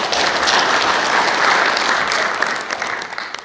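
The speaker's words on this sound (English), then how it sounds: "let's give Dave a big round of applause." An audience applauds a CEO of a small Vermont electric co-op at a public talk, with steady, dense clapping filling the room for a few seconds before thinning out toward the end.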